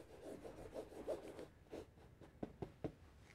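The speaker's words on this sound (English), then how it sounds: "We can also use the front edge of the brush to do some scraping, to move the product into it." A brush scrubs and scrapes cleaning product into a food stain on fabric, soft rubbing strokes followed by three sharper, distinct scrapes, close and quiet.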